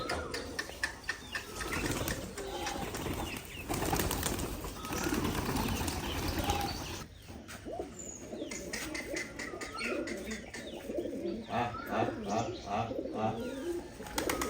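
Giribaz pigeons cooing and rustling nearby at a pigeon farm, with wing flaps early on and soft low coos continuing throughout.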